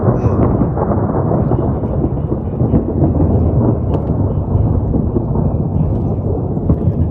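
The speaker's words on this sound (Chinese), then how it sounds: "真的是雷电交加了。" A thunderstorm over the Ming Dingling tomb at the Thirteen Tombs in Beijing: heavy rain hisses steadily while deep thunder rumbles and rolls underneath, loud and continuous for the whole stretch.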